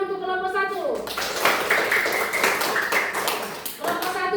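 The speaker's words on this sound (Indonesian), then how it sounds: "Kita beri tepuk tangan untuk kelompok 1." A classroom of young students claps for group 1 after their presentation, a dense burst of many hands filling the room for several seconds, with a voice audible at the start and end.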